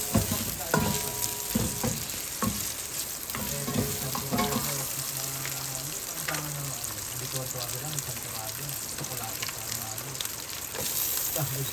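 Hot dog slices fry and sizzle steadily in a pan for chorizo sopas, with stirring clatter and a soft voice talking at times over the continuous frying.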